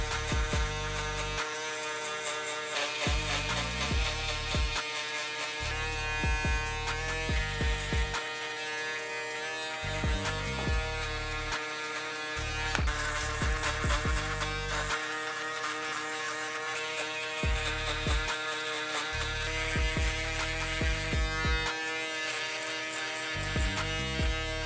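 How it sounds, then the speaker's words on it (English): An electric shaver turned around and used like clippers to blend a mid fade haircut, a steady close electric buzz that hums continuously throughout, with small shifts in pitch as it moves over the head. "turn your shaver around, use it as if it was a pair of clippers"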